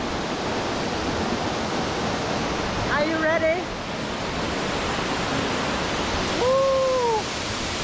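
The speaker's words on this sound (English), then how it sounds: "I will show you guys one of the most incredible waterfalls here" A steady, full rush of a waterfall in Cambodia fills the whole stretch, with a person speaking briefly over it and a short whistling or vocal call rising above the roar.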